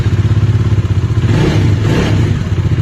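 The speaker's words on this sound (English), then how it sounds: "So let me first start and check how the bike is." A Bajaj Dominar 400 motorcycle engine running right after starting, a loud, close, steady thumping idle with a brief rise in revs midway.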